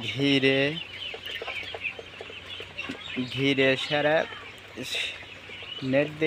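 Several broiler chickens cluck and squawk close by in repeated bursts, with background noise between calls.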